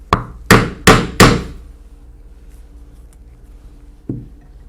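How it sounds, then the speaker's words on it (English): A hammer drives a 3/4 inch oblong punch through leather for saddle tack chaps: four sharp, close strikes in quick succession, then a lone softer knock after a pause. "we will use a 3/4 inch oblong punch and punch in the center"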